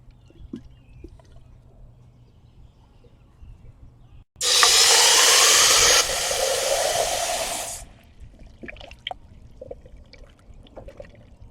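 Coolant drains from a 2005 Nissan Murano during a thermostat replacement, a loud, close, hissing gush that splashes steadily for about three seconds before cutting off, set against a quiet outdoor background.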